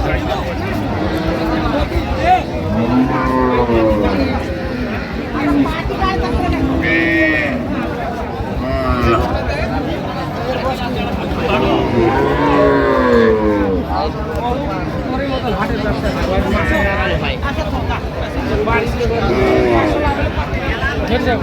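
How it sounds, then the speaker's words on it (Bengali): Cows and calves moo repeatedly in long, drawn-out calls amid the busy chatter and bargaining of a crowd at the Ambari cattle market, several animals close by, with people talking throughout. "গাভী বাছুর আমরা দেখছিলাম"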